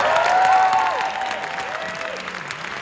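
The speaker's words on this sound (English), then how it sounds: "Give that a round of applause." Theater audience applauding at a Classical Theater of Harlem staging of Twelfth Night, a steady wash of clapping that is fullest at the start and then eases to a quieter patter, with a few whistles rising over it.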